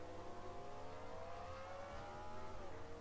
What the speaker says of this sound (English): Cars rolling off onto the racetrack